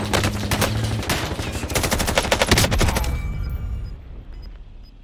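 Rapid sustained bursts from the Bruin machine gun in Call of Duty Warzone crackle loud and close for about three seconds, then cut off, leaving faint background tones.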